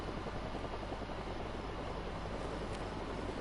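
A helicopter flies in Call of Duty Modern Warfare, a faint, steady rotor drone that holds evenly throughout with no voices over it.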